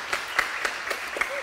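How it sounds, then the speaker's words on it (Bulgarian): Applause at a school award ceremony, a short run of scattered claps with a few sharp individual hits standing out over a soft background, fairly faint. "Аплодисменти и честити!"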